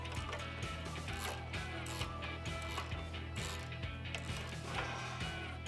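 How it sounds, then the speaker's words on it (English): A ratchet wrench turns the nut off a JKS Manufacturing sway bar end link on a Jeep JL Wrangler or Gladiator, making a quick, regular clicking that runs continuously and faintly close by, with no talk. "you're going to use an 18mm ratchet wrench or a standard box wrench and a 6mm Allen key socket to hold the center there"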